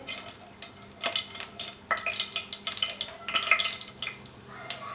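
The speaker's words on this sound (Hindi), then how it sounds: "इसमें हम 4 से 5 टेबलस्पून ऑयल डालेंगे। लौंग और काली मिर्च, इनको हल्का सा फ्राई करेंगे।" Cloves and black pepper frying lightly in four to five tablespoons of oil for Arabian rice, a crisp, uneven sizzle with spatters and stirring scrapes, moderately close and fairly soft, with no voices.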